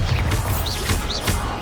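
A Bombarda blasting spell from Hogwarts Legacy erupts in a dense, crashing explosion that fills the short moment, loud and continuous, with magical whooshing tones riding over the rumble.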